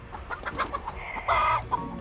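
A chicken clucks in short, irregular bursts, fairly close, ending in a louder drawn-out squawk and a final cluck.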